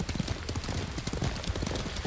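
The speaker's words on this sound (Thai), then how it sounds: "อยู่ดีก็ควบม้าเร็วนะครับ" Rapid, steady hoofbeats of a horse galloping in Ghost of Tsushima, a samurai video game, loud and close throughout with a driving clip-clop rhythm and no talk.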